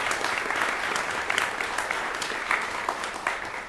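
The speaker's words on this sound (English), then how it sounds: "a round of applause for you" Steady applause from the audience at the 2025 Curtis Institute of Music commencement ceremony, a dense crowd of clapping hands sustained evenly for the whole stretch with no voices over it.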